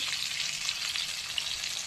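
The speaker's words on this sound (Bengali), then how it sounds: "এখানে মাছ ভাজা হচ্ছে" Fish frying in oil in a home kitchen gives a steady, close hiss of sizzling with faint crackles and pops throughout, and no voices.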